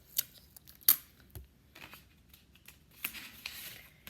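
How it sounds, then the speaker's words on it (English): Tape is torn and pressed onto a paper craft, heard as a few sharp, close tearing rips and soft crinkles separated by quiet gaps. "So I'm just putting tape right there on the back to tape it on."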